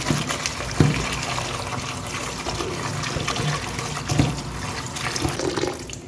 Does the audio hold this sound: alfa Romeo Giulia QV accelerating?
no